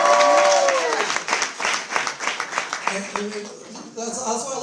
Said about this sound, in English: Let's give him a round of applause, by the way